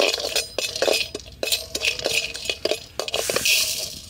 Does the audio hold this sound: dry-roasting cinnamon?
yes